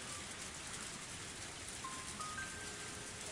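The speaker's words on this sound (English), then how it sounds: "Even though it was raining heavily" Steady heavy rain in the video game Higurashi no Naku Koro ni Kai hisses evenly throughout, a dense wash of drops with a few faint tonal tones drifting above it.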